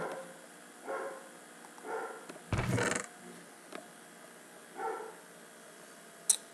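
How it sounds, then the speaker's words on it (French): A pet dog indoors gives several muffled barks and yips at intervals, fairly faint and somewhat distant, with one louder rustling thump in the middle and no talk. "Excusez-moi si vous entendez un chien."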